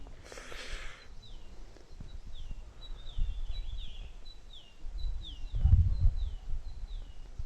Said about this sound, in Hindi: बस चिड़ियों के चहकाने की आवाज़